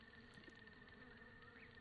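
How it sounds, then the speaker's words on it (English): Faint, steady buzzing of bees in the video game The Legend of Zelda: Breath of the Wild on Switch, a continuous low drone without talking. "I'm a fan of those bees."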